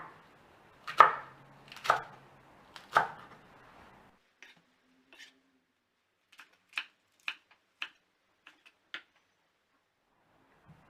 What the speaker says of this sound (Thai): ิธีการหั่นผักสำหรับผักใบเขียวนะคะ หั่นให้เป็นชิ้นเล็กๆเพื่อให้ใส่แก้วได้ง่ายๆนะ